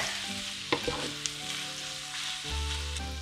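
Minced meat seasoned with pepper fries in a pan for Bolognese sauce, giving a steady close sizzle with a few clicks of stirring and a low hum beneath, no voices.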